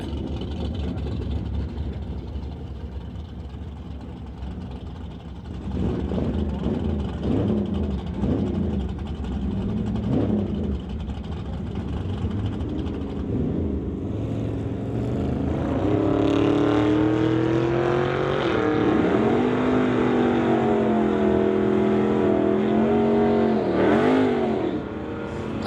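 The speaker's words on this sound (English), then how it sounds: "We move to Joanna Rebello in the 1988 Corvette out of the 1403 to race Roland Lowen in the 1955 Meteor" Drag racing cars, a 1988 Corvette and a 1955 Meteor, roar at the strip with sustained engine noise that swells into loud revving and acceleration, heard from a distance in an open outdoor setting.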